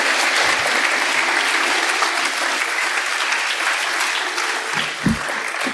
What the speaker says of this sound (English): Anyways, applause for them.